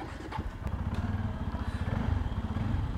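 A Bajaj Pulsar F250 motorcycle engine runs steadily during a test ride, giving a close, continuous low throb with a fast pulsing rhythm and a slight rise in intensity toward the end.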